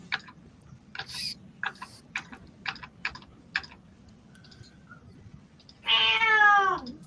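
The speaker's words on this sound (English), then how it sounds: "Cat doesn't like my driving." A cat lets out one drawn-out, loud meow near the end, after a run of faint computer keyboard typing clicks, with no talking.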